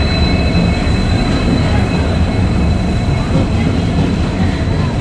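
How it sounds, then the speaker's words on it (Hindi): The Uttar Banga Express arrives at New Cooch Behar station with a loud, steady rumble of rolling wheels and a faint high squeal, a continuous wash of train noise close by. "और ये आ गई है उत्तरबंगा एक्सप्रेस"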